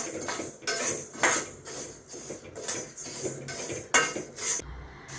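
Spices for homemade rasam powder being dry-roasted in a pan over a medium gas flame, with repeated close metallic scraping and clinking of a utensil against the pan in a steady stirring rhythm.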